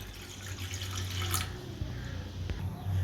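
Water pours steadily into a kadai pan in a home kitchen, giving a soft continuous splashing rush with a few small clinks, faint and close, with no talking.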